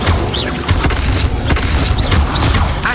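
Incendio fire spell cast in Hogwarts Legacy, heard as loud, dense booming bursts with sharp whooshing flares repeating over a constant busy game soundtrack.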